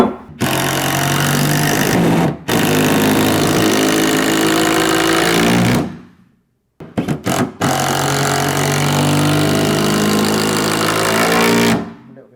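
A power drill whirs steadily as it drives a screw into a wooden stud while building a stud wall, two long runs of buzzing motor separated by a short pause and a few brief bursts.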